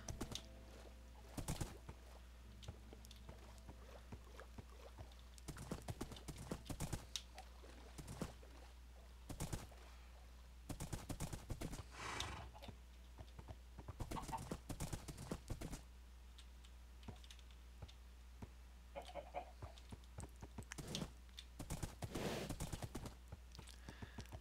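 Horse hooves clop in the Minecraft 1.7.5 video game, quiet irregular bursts of footfalls crossing forest and shallow water, with faint background ambience and no whinny evident.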